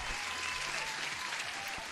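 Canned applause plays on a live futures-trading stream, a bright continuous wash of clapping at even loudness for about two seconds, with a faint voice underneath.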